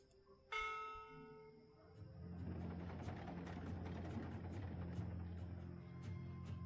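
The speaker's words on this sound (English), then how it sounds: "From what I've learned traveling on cloud ships, this is a ship's bell." A ship's bell aboard a cloud ship in the video game Dreamfall Chapters rings once with a clear metallic strike and a fading tone, then a low engine rumble builds and continues beneath faint repeated clinks.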